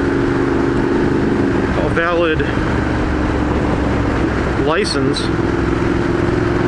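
A Ducati motorcycle's engine drones steadily while riding, loud and continuous with shifting pitch, as someone talks over it.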